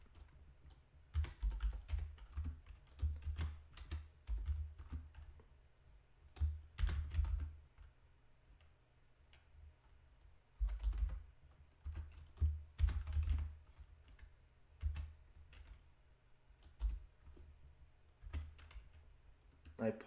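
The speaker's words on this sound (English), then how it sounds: "there's not much more to this than just typing this information in carefully and accurately." Close, steady keyboard typing while entering data into Microsoft Access table fields: irregular bursts of soft key clicks separated by short pauses, running through the whole stretch.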